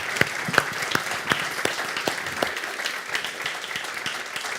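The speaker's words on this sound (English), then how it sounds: "It was a big applause for your energy and sharing." Audience applause fills a hall after a keynote talk on youth work, steady clapping from many hands with a few sharper nearby claps, continuing evenly throughout without voices.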